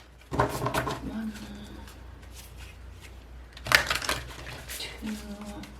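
Deck of tarot cards being shuffled close by in two quick riffling bursts separated by a few seconds of quiet, with a voice murmuring faintly in between.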